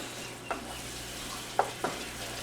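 Flour and garlic are stirred into mushroom gravy in a pan, a soft steady sizzle broken by three light spoon clicks against the pan.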